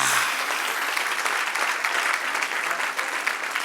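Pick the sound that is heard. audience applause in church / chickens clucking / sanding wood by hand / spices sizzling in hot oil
audience applause in church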